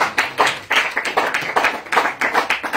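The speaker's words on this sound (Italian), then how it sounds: "Altro applauso." An audience at a talk in Rome applauds, a close, moderately sized crowd whose claps come through as lively, slightly rhythmic bursts filling the whole stretch.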